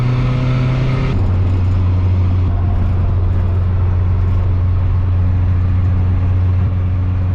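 A budget-build car's engine revs hard as it accelerates on the road, a loud steady drone that steps up in pitch after a brief gear change, close and continuous.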